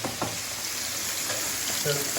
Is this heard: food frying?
yes